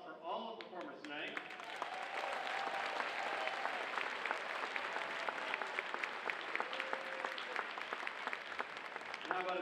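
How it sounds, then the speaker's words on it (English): An audience at a school pops concert breaks into applause for the evening's performers, a soft start building into dense, sustained clapping with a few faint voices mixed in, heard from a distance. "do we have another round of applause for all of the performers tonight?"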